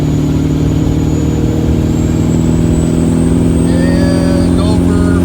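A single-turbo Nissan engine held at partial throttle under heavy boost, droning loud and steady with a strained mechanical tone, while someone talks over it.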